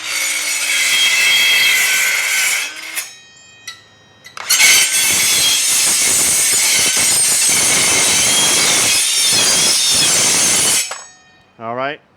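A DeWalt 20 volt cordless saw cuts off metal ends on a radar mast, a loud sustained rasping buzz that stops briefly, restarts for a long cut, then winds down.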